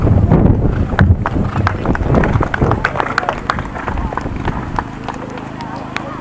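Horses trotting in a festival horse race at a Greek saint's-day fair, with steady clip-clop hoofbeats close by under continuous loud crowd noise and an announcer's voice.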